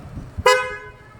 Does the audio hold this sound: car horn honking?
yes